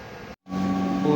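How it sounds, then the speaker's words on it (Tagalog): Sublimation printer running a print head clean, giving a steady mechanical hum and whir that cuts out briefly, then resumes at a similar level with a faint tonal whine. "Printer head clean"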